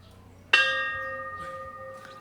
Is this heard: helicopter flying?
no